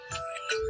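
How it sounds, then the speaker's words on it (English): An electronic alarm tone sounds on its own, a steady melodic beeping with sustained pitched notes, fairly close and moderately loud. "that is the alarm for Crumble Pappy"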